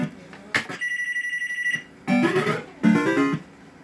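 Telephone ringing near a Bell Fruit Cash Force fruit machine, an electronic ring tone sounding in two or three bursts, with a sharp clatter at the start and some sound between rings.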